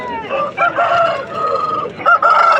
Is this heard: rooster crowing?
yes